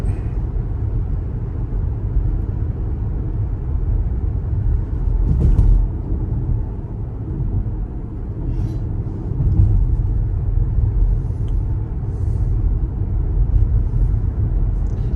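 Ford Mustang Mach-E electric car on a first drive, a steady low road rumble and cabin hum filling the whole stretch, with a few brief bumps and knocks near the surface.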